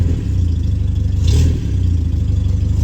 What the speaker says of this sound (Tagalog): I-rev mo. Bali yun yung tunog ng muffler niya mga boss.